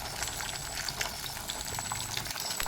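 Katla fish pieces frying in hot oil in a pan as they are flipped over, a steady close sizzle and crackle with bright spitting pops, no talking.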